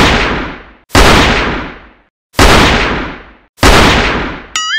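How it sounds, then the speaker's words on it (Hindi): Four loud gunshot-like blasts in a Khandesh Hindi comedy village scene, each a sharp crack with a long decaying boom, spaced about a second and a half apart, close and alone, with a brief tonal sound at the end. "ये चार गोले की आवाज क्यों है?"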